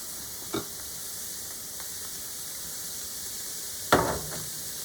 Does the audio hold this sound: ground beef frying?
yes